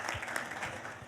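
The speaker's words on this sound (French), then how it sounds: "Est-ce qu'on peut acclamer pour le MC de la République?" An audience at a talk on what startups need to interest investors applauds the MC, a brief, fairly faint wash of clapping from the crowd.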